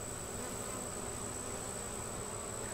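Honey bees buzz at a Guardian hive entrance with a dense, continuous, close hum and no talking over it.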